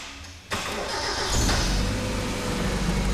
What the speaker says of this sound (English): Now we got a running car.